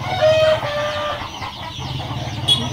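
Chickens and young chicks at a poultry farm, with native chicks among them, fill the air with steady overlapping clucks and thin peeping over a constant low farm hum.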